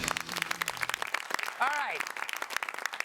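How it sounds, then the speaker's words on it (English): A brief burst of audience applause with scattered clapping, while a voice speaks over it. "Enough applause, I know."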